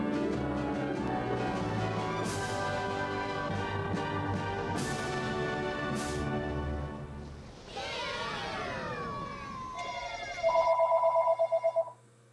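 A trilling telephone ring in the SpongeBob Revenge of the Flying Dutchman video game, heard as a rapid pulsing burst of about a second and a half at the very end, after a stretch of game music and sweeping effects.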